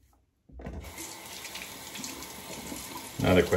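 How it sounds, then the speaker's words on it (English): Tap water running into a sink to rinse a Gillette Black Tip X3 razor, starting abruptly after a brief silence and flowing steadily, close, with a louder splash at the end. "Another quick rinse."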